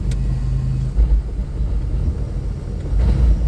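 Nissan Stagea M35 with a swapped-in manual gearbox running in third gear, a steady loud low drivetrain rumble and drone heard from inside the car, with no talking.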